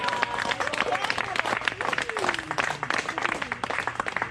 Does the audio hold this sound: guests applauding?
yes